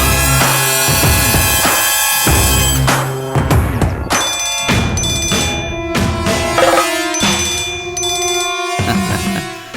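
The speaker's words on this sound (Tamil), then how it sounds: "யாருன்னு ஃபோன் பண்ணி கேட்டுருவோம்." A phone's melodic ringtone plays loudly and clearly while a call is placed in a Tamil TV serial, its repeating tonal phrases continuing for about ten seconds with no talk over it.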